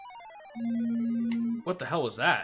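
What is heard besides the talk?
mobile phone ringing and vibrating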